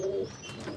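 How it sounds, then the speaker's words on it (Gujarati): Pigeons coo softly for a brief moment, close but quiet, with no talking. "અંદર બાંધી ગયેલા કબૂતરા હાલો અહીં નીકળી ગયા બહાર"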